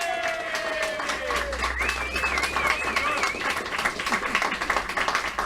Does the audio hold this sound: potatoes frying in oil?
no